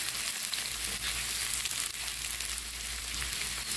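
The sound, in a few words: chopped onion and garlic frying until brown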